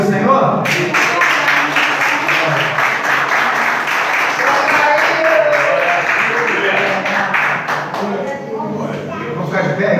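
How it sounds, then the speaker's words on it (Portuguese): A church congregation applauds the Lord at a seminar's close, a continuous busy clapping that fills the space, loud and sustained before thinning near the end, with voices mixed in. "Vamos aplaudir o Senhor?"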